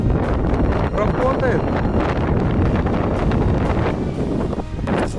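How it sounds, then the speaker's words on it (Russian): Strong wind buffets the microphone on an exposed northern Russian coast by the Arctic Ocean, a loud steady roar with gusty bursts, while someone speaks briefly over it. "Ветер вообще дикий."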